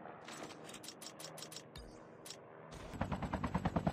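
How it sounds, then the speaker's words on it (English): Rapid bursts of gunfire in Call of Duty Mobile during a solo-versus-squad match, with a run of sharp shots early on and a louder, regular volley near the end, heard without talk. "Shots up here."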